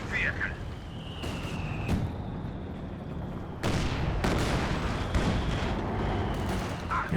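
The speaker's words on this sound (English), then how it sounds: "Just constant mortar barrage is going to finish the job." A Company of Heroes 2 mortar barrage thuds in repeatedly, several distant-to-mid booms spaced irregularly over a steady battlefield rumble, with a voice talking over it.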